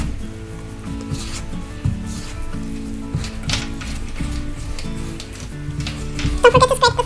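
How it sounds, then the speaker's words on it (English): Brownie batter being mixed by hand in a bowl, a steady scraping and rubbing of spoon against bowl in repeated strokes, close up, with soft background music. "Just keep mixing until you don't see any traces of flour."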